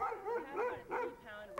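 Sled dogs training for the Iditarod bark and yip eagerly before a run, with several overlapping excited barks and whines heard at moderate distance, fairly faint.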